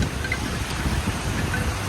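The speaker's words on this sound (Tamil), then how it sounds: "பலமான காற்றும் மழையும் வீசுது." Heavy rain and strong wind lash a rooftop terrace garden during Cyclone Fengal, a steady dense hiss of falling rain with a gusty roar, continuous and loud, and no voices.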